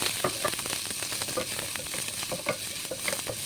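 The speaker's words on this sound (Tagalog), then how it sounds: "bali dito kakabsat ay naggisa muna ko ng sibuyas" Onions sautéing in a pan for a simple beef dinner, steady close sizzling with a rapid patter of stirring scrapes and crackles throughout.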